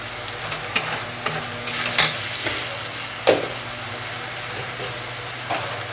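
Prawns fry in a pan as turmeric and Kashmiri chili powder are stirred in, giving a steady close sizzle with a few sharp scrapes and clinks from the spoon.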